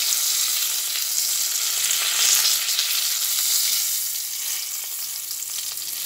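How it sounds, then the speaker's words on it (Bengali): Panch phoron spices with cumin powder, coriander powder and bay leaves frying in hot oil, a continuous bright crackling sizzle, close and steady. "পাঁচফোড়নটা ভাজা হয়ে যাক,"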